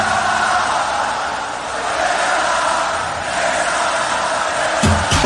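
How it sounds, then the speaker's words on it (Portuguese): Flamengo football supporters in a stadium roar and chant together, a dense, loud, unbroken wall of voices that swells slightly and ends in a sharper burst. "E aí a torcida grita, canta"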